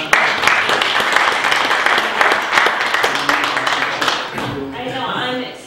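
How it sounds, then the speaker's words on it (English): A church congregation claps in praise, dense and steady for several seconds before tapering off as a voice begins speaking near the end. "Give the Lord a hand clap of praise."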